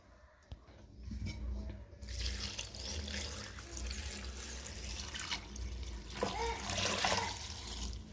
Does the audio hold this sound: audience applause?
no